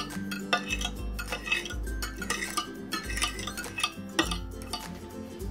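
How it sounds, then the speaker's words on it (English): Paring knife cutting almond jello at an angle in a dish, heard as close clinks and scrapes of metal against the container in an uneven rhythm, with low thumps underneath and no talking. "So what we're gonna do is take a paring knife and we'll cut it at an angle."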